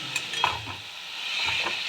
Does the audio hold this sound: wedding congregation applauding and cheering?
no